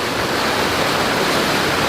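Turbulent water pouring over a small lip on the Norfolk Broads, a steady, loud, close rushing roar with no breaks.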